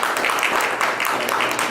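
A short, dense burst of audience clapping fills a director's panel with Kazuhiro Furuhashi, loud and close throughout.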